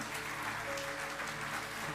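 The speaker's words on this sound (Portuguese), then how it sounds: "Pode aplaudir mesmo, aplaude os mais de 70" A church congregation applauds its members over seventy: a continuous wash of clapping heard somewhat distant, with a sustained tonal hum beneath it.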